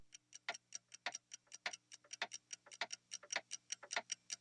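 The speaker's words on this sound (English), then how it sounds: "the first sounds we hear are of clocks" Many clocks tick together at the opening of Back to the Future (1985), a dense, steady overlapping pattern of sharp clicks with no voices, heard softly and close.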